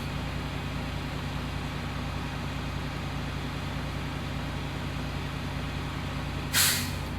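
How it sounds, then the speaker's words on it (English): During a CDL pre-trip brake test, a truck's air brake relief valve lets go with a brief, sharp hiss of escaping air near the end, over the steady drone of an engine held at raised RPM. "Relief valve went off."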